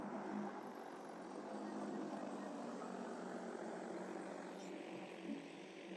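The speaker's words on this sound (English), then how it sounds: "Aircraft preparing to take off. Stand back at a safe distance. Take off." A DJI T50 agricultural spray drone lifts off at the edge of a corn maze, its rotors producing a steady, broad whirring roar that holds at an even level throughout, with no speech over it.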